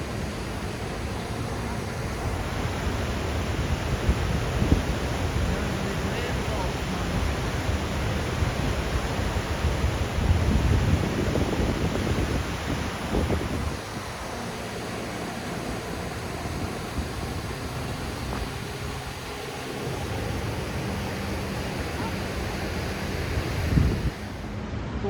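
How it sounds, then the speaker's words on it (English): A waterfall in Western New York roars as a steady broadband wash of falling water, constant and fairly close throughout, with wind buffeting the microphone and no talking. "And then here you get a look at the waterfall."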